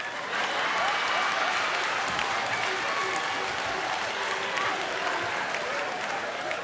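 Comedy club audience clapping steadily throughout, a dense wash of applause with some crowd murmur and possible voices mixed in.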